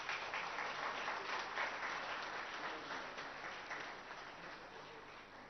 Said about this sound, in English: Let's welcome the Honorable Minister with a big round of applause.